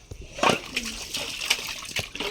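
Water scooped and poured from a metal pot in a village home, giving a few short splashes and sloshes close by, with quiet voices in the background.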